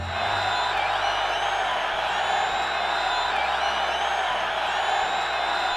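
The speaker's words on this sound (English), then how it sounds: "You guys couldn't have gotten a loop of people cheering that was longer than 3 seconds?" Short looped crowd cheering in the Mario & Sonic at the Olympic Winter Games video game, a steady wash of whooping and cheering with low hum underneath, repeating evenly without rising or falling.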